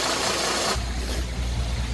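A carbureted car engine idles steadily up close after distributor work, a low even rumble that shifts partway through and keeps running alone without talk.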